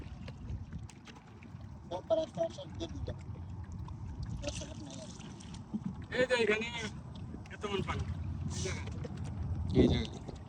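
Water sloshes and splashes around a boat moving on floodwater over a former road in Cumilla, Bangladesh, with wind buffeting the microphone and people talking nearby throughout.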